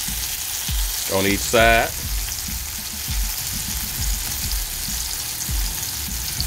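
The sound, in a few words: salmon fillets frying in a pan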